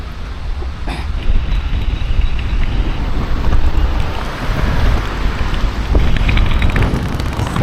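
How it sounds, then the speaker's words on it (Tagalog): Strong wind buffeting the microphone outdoors in the Netherlands, a loud, continuous low roar with gusty swells throughout and no voices. "Sa lakas ng hangin,"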